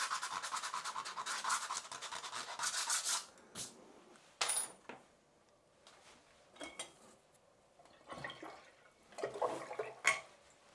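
Dry watercolour paint is scratched out of paper: a dense, rasping scrape for the first few seconds, then short, separate scratching strokes and rubs with quiet gaps between them.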